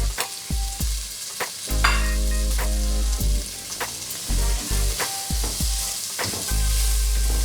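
Spice paste for a Moroccan vegetable tagine fries and is stirred in a pan, giving a loud, steady sizzle broken by repeated scraping and clattering strokes of the spoon throughout, with no talking.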